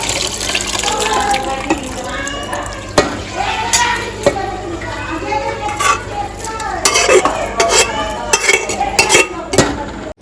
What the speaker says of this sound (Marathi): आता सर्व मसाले शिजून झालेले त्यामध्ये आपण उकडलेली मच्छी घालून घेतो